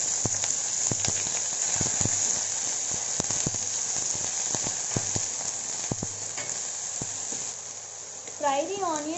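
Onions with green chilies and bay leaf frying in a pan for spiced paneer pulao, a steady close sizzle broken by sharp pops and crackles, with a short voice near the end.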